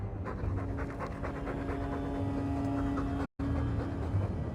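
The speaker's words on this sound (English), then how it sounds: "All that noisy dog breath, day in, day out, make him stop." A dog pants steadily in the video game Dragon Age 2, quick rhythmic breaths close and continuous over a low ambient hum, with no talking.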